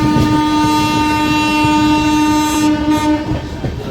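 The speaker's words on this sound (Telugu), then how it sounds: "సుమారు ఒక 20 నిమిషాల నిరీక్షణ తర్వాత కదిలిందండి మన బండి." The Vikrama Simhapuri Amaravathi Express begins moving after a halt at the outer signal near Ongole, a loud sustained horn blast ringing over the low rumble of the coaches before fading near the end.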